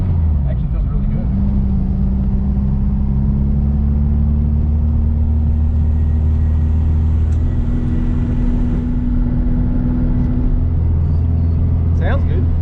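A VW Beetle engine runs with a steady low drone and a whirring tone, with a voice talking over the running engine.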